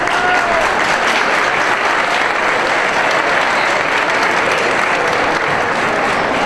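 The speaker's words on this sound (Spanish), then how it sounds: "a la presidenta Victoria Pavón, a la que pedimos un fuerte aplauso" A dense, loud wall of applause fills the room for the club president at a C.D. Leganés press event presenting the 2017/18 kit, many hands clapping steadily and evenly with no talk.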